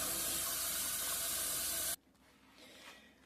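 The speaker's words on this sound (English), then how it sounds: "I need to add some more water to the scallop potatoes" Water rushes loudly and steadily for about two seconds as it is poured into a boxed scalloped potato mix, then cuts off abruptly, leaving a quiet room.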